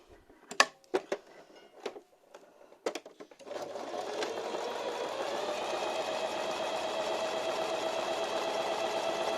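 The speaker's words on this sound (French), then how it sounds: "je vais surjeter, donc c'est plus ou moins cette zone-là, avec le zigzag" A sewing machine overcasts fabric with a zigzag stitch. A few sharp mechanical clicks and short bursts come first, then it settles into a steady, close, continuous whirring run until the end.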